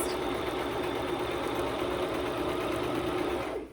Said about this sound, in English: I'm just gonna sew straight all the way across